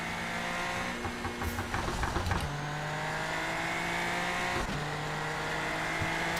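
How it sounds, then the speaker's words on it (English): Race car driven in light rain in the iRacing sim, with a steady droning engine note that shifts pitch through gear changes, under a constant hiss of rain and spray, with no talking. "I'm just gonna let you listen to the sounds of the car and the rain"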